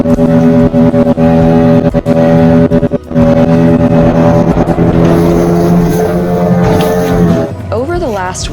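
A Yamaha outboard engine on a blue-water sailboat, newly fitted with a fin, runs during a turn test with a loud, steady droning hum and strong tonal harmonics, then a shift in pitch near the end as the engine revs change.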